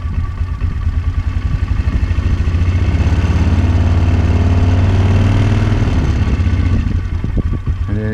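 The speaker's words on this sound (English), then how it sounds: "Okay, so it's idling, and then if I give it gas," A small engine in an off-grid setup idles with a steady, loud, throbbing rumble, then the throttle opens and the pitch climbs briefly before faltering near the end.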